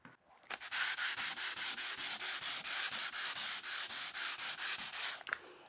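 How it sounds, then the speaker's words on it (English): Regular sandpaper rubs over dried joint compound on a drywall patch in steady back-and-forth strokes, about twenty loud, close, rhythmic rasps in a row with no talk. "once that joint compound is dry, I can sand it with a piece of regular sandpaper"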